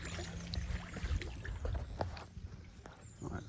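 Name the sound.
kayak paddling on water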